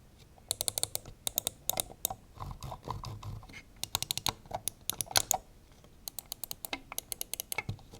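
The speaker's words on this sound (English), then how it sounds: "Here's a quick sound test of the scroll wheel as well as the clicks." Clicks and scroll-wheel ticks from a HyperX Pulsefire Core mouse come in quick irregular clusters of sharp, close taps with brief pauses between bursts.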